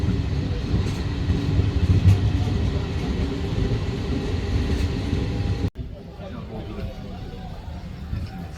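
Steady rumble of a train in motion from Bordighera, Italy, to Nice, with background chatter, then an abrupt drop to a quieter hum as the noise cuts off.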